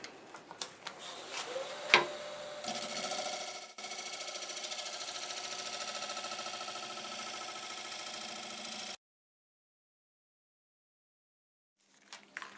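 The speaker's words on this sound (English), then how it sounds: "I'll go ahead and go over it with the negative rake scraper because I'm happy with the shape." Negative rake scraper cutting a walnut bowl spinning on a lathe, an even, steady scraping hum lasting several seconds after a few sharp knocks, then cutting off abruptly into silence.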